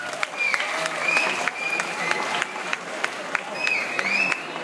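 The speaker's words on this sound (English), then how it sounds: "A small applause again for ASIMO." Audience applause for the ASIMO humanoid robot at the RoboCup 2013 event in Eindhoven, a steady wash of clapping from a crowd indoors with some voices mixed in, lasting throughout.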